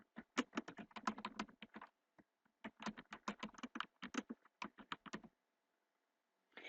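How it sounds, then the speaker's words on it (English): Typing on a computer keyboard, heard close and quiet: two bursts of rapid key clicks separated by a short pause, then a faint soft sound at the end. "I am going to type Colorado."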